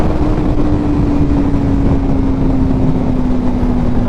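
A Suzuki GSX-R600 motorcycle engine hums at a steady, even pitch while riding, loud and constant, with heavy wind rush across the whole stretch and no voices.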